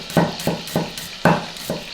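Chopped shallot sizzles in butter in a hot pan while a utensil stirs it in regular scraping strokes, close and fairly loud.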